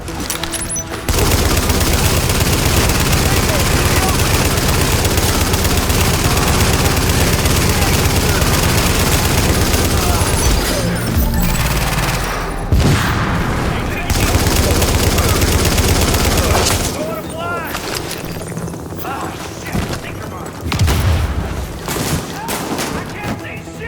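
Dense, sustained gunfire from The Division, with rapid bursts and booming shots layered into a constant barrage for most of the clip. It thins out near the end amid scattered shots, with a voice briefly audible beneath the combat.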